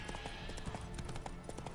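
Horse hooves clip-clopping in a quick steady rhythm in The Witcher 3: Hearts of Stone, close and continuous with a faint background bed.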